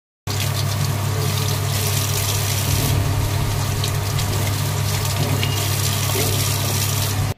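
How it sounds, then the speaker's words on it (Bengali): Tap water runs steadily into a kitchen sink while fish are washed, a constant loud splashing rush over a low motor-like hum, with no talking. "তবে আজকে যে মাছগুলো ধুয়ে রাখছি"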